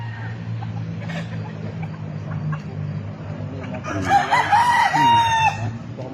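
Roosters on a gamefowl farm cluck softly over low ambient hum, then one crows loudly and close near the end, a drawn-out call.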